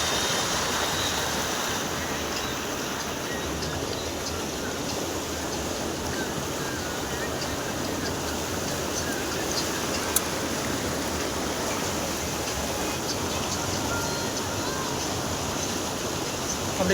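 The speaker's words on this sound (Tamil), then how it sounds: "அப்படி தண்ணியோட சத்தம் கேட்கும்போது கலகலகலகலந்து அருமையாக இருக்குது" A river flows steadily with a continuous broadband rush and gurgle at an outdoor riverside breakfast spot in Tamil Nadu. The sound is moderately loud and even throughout, with faint voices at times.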